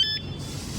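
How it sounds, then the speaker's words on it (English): A Juiced HyperScorpion electric bike's alarm gives one short, high arming beep from the remote, followed by quiet background. "you hear the beep. That means it's armed"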